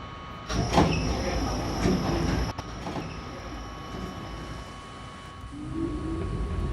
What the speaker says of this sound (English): This is a Slicen Terminal bound M local train.